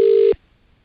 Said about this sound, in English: one of you's got some incoming phone too